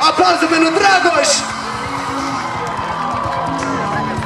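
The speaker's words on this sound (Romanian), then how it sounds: "aplauze pentru Dragoș!" Audience cheering and applause for a performer at an outdoor event in Vălenii de Munte, loud with whoops and shouts at first, then settling into a steadier crowd roar.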